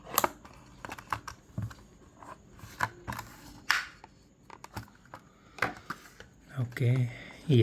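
Scissors cutting open the cardboard and plastic packaging of a Hot Wheels '17 Acura NSX die-cast car, a series of short snips and crinkles under occasional talk.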